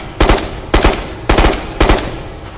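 A gun in the VR shooter Ghost of Tabor fires four quick bursts, each a tight cluster of sharp, loud, close reports with short gaps between them.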